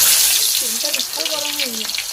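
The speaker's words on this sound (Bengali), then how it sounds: "রান্নার জন্য তেলটা গরম হয়ে গিয়েছে, মাংসর আলুগুলো ভেজে নেব।" Potatoes for a meat curry frying in hot oil, a loud dense hiss throughout with brief tonal squeaks layered over it.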